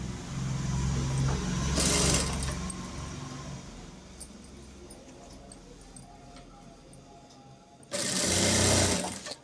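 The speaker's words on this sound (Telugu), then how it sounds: "ఇలా నీట్గా మనం ఎలా బ్లౌజ్కి స్టిచ్ చేసుకుంటామో అలాగే చేసేసుకోవాలి" Domestic sewing machine stitching a katori blouse, running steadily in a loud, close whir, pausing into quieter handling noise, then starting again in a short burst near the end.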